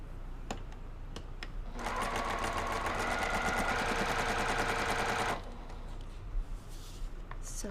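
A sewing machine runs in one continuous burst of rapid even stitching for about three and a half seconds while chain piecing quilt block pieces, framed by a few isolated clicks before and after, close up.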